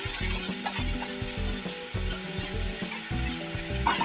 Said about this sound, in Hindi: थोड़ा सा मस्टर्ड और गार्लिक और जिंजर और प्याज, ये सब थोड़ा मसाला बना के रखे थे, उसको भी ऐड करके अच्छे से फ्राई करेंगे।